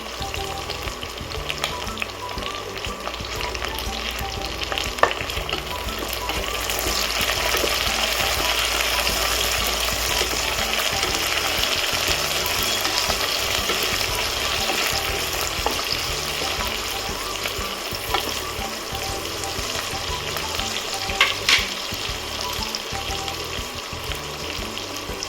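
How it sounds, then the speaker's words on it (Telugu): A green chilli sizzles in hot oil in a pan while tomato charu is being cooked, giving a steady crackling fry with occasional sharp pops and no talking. "ఒక పచ్చిమిర్చిని కూడా ఒక 2 మినిట్స్ ఫ్రై చేసుకుందాం"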